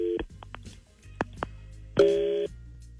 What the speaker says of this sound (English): let's make the phone call to him and see who he sends roses to